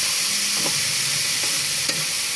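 Pork with onion and garlic being stirred in a sizzling pan, a steady loud fry with a few spoon scrapes against the pan.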